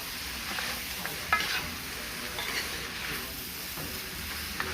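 Chataigne (breadfruit) curry frying in a pan, a soft, steady sizzle with light stirring and faint clinks, fairly quiet and close.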